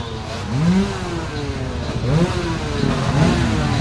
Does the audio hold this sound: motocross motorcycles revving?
yes